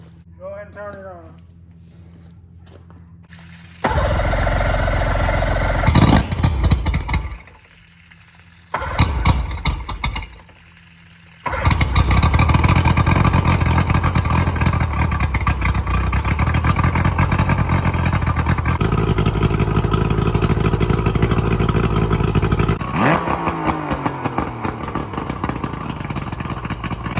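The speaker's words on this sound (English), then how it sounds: "All right, so the motor ran good." A boat motor is started several times with short bursts and pauses, then catches and runs loud and steady for a long stretch before cutting back, with someone talking at points.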